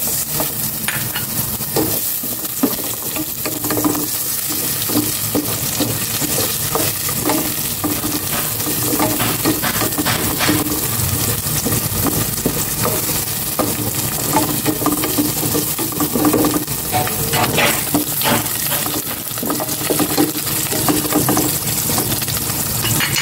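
Onion sautés loudly in a hot pan, a dense continuous sizzle and crackle with scattered stirring scrapes, close up and without talking.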